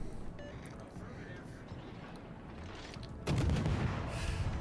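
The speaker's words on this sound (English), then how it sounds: "I'm using my guns." Gunfire from the Paolo Emilio warship in World of Warships: faint, distant booms from the ship's guns, then a louder, heavier salvo near the end, over a low background rumble.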